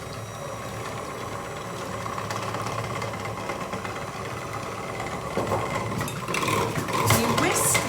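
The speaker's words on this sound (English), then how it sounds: "You whisk this until you get to a soft peak state." Double cream whisked to soft peaks for orange ice cream: a continuous mechanical whirring hum with light rattling, growing louder and busier toward the end, with no talk over it.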